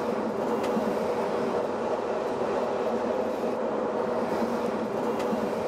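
Côte Bleue regional train running along the Mediterranean coast, a steady continuous rumble of wheels and carriage noise at close range throughout, with faint rattles and no talking.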